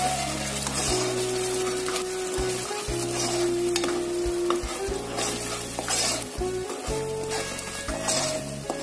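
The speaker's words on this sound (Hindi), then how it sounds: "इसको थोड़ा हिला लें।" Spice paste for a chicken gravy frying and being stirred in a pan makes a loud continuous sizzle, with intermittent scraping strokes of the spoon and steady tonal hum underneath, close and without talk.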